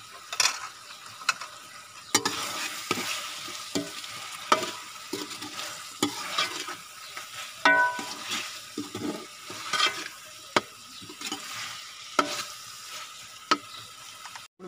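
Masala with coriander stirred and frying in a pan for a mixed vegetable curry, a steady soft sizzle broken by frequent scraping stir strokes, close and moderate, no talk.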